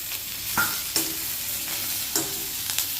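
Tomatoes with salt sautéing in a pan, a low steady sizzle with occasional scraping stirs of a spoon at irregular intervals, close by and with no voices.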